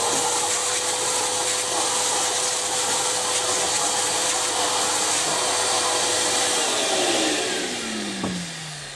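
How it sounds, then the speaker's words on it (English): A HYVI 3014 wet and dry vacuum cleaner in dry mode runs steadily with a loud, constant whine and broadband roar, then begins to wind down near the end. "I'll just go to position 1 and use it as a vacuum cleaner,"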